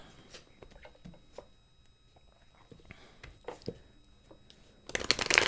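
Soft papery riffling and scattered taps of cards being shuffled, fairly close, ending in a louder burst of rustling.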